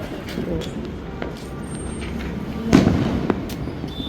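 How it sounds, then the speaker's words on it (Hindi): Firecrackers and bombs bursting outdoors during a Karva Chauth night celebration, a continuous crackle of distant pops with one louder close bang near the middle, under a steady festive background din. "देखो सब बम पटाखे इतना फोड़ रहे थे, बहुत ज़्यादा फोड़ रहे थे।"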